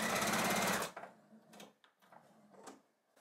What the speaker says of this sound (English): before I start stitching on them, I'll stitch on my leader first